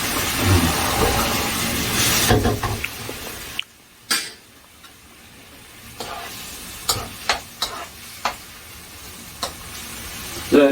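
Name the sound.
stir-frying jjamppong ingredients, sizzling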